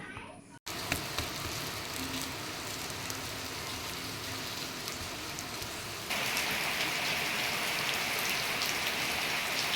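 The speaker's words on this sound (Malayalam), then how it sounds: "പുറത്ത് നല്ല മഴയാണ് കേട്ടോ" Heavy rain pours steadily outside as a constant, dense hiss that swells louder partway through, with no voices over it.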